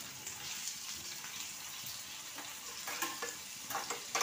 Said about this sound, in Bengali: পটলগুলো আগে খুব ভালোভাবে আমি ভেজে নিচ্ছি।